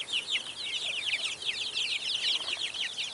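Chickens cluck and chirp continuously at close range on a small backyard farm, with busy overlapping bird calls and no talking.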